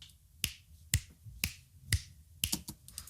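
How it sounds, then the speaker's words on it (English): Crisp finger snaps in a loose rhythm, sharp and close, about seven in quick succession with a couple of doubled snaps near the end. "Snapping my fingers."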